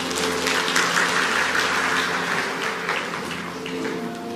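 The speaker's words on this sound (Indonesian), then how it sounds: "Kasih tepuk tangan untuk Tuhan Yesus" A congregation at a church service claps for Jesus, a dense stretch of applause over sustained instrumental music tones that carries on steadily throughout.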